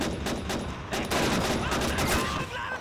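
Gunfire in the video game Call of Duty 2: rapid bursts of rifle and machine-gun shots in a WWII infantry battle, dense and continuous, moderately loud, with a shout briefly heard amid the shooting.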